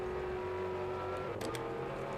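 Race car engine in the PS2 game Le Mans 24 Hours holds a steady, droning tone throughout, with a couple of brief higher blips partway through and no voices.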